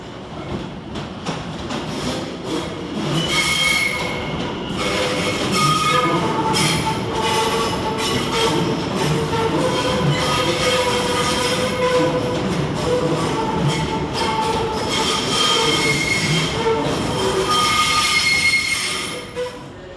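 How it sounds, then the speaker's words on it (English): A London Overground Class 710 train pulls into Liverpool Street station, loud and close, its wheels squealing and screeching continuously over rolling rail rumble and clatter as it slows along the platform. "Arriving to terminate with a London Overground service from Chingford is 710-104."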